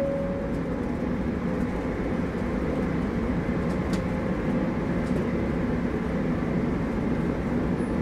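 A shuttle train in the Soma video game rolls steadily through an underwater station, a continuous low rumbling drone with a faint whine, even and unbroken throughout with no talking.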